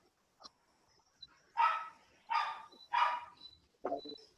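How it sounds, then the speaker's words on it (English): A dog barks three times in quick succession, fairly near and moderately loud, with a short yelp or whimper following, heard indoors during a lesson with no talk over it. "Sorry about my dog."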